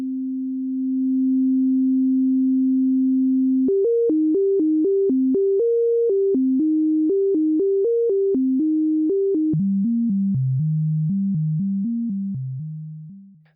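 A pure sine tone from a VCV Rack synthesizer oscillator holds one steady pitch, then steps through a quick melodic sequence of clean, bell-like notes that drifts lower before fading out at the end.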